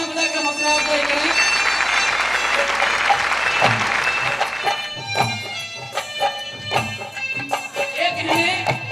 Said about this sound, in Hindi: इन सभी के लिए एक बार जोरदार तालियां बजाकर हौसला अफजाई करें।